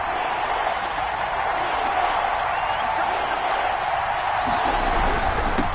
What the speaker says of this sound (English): This crowd dying for a stop.